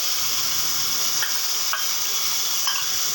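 Whisked yogurt sweetened with sugar hits frying onions in a pan, giving a steady close hiss of sizzling oil with a few brief stirring scrapes, no voices.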